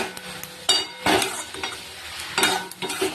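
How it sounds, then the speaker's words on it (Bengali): Okra with spices being stir-fried in a pan: close, repeated scraping strokes of a spatula against the pan over a soft sizzle, in uneven bursts. "এবার ঢেঁড়সটা ভালো করে কষিয়ে নিয়ে পরিমাণ মতো জল দিয়ে দেবো।"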